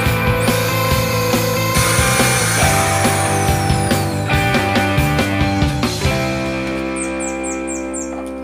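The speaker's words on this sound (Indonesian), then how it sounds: "setelah kita ukur lalu kita bor ya." A power drill bores into a miniature truck tarp frame, with rising and falling whines and scraping bursts, close and loud, winding down to a fading spin at the end.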